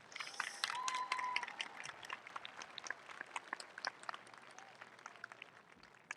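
Faint applause from a crowd at a junior high school graduation ceremony, steady light clapping heard from a distance at low volume, slightly fuller at the start and thinning toward the end.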